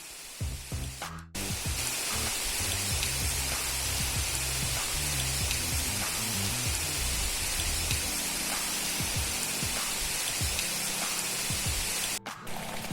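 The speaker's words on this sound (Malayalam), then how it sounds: "നല്ല അടിപൊളി മഴ" Heavy rain pouring beside a swollen river, a dense, even hiss of drops with scattered patters, close and unbroken for most of the stretch.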